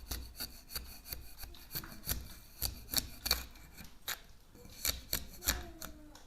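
A razor-blade scraper rasps old wallpaper off a wall in repeated short strokes, a rough scratchy scraping in an uneven rhythm, close and fairly loud, with no talking.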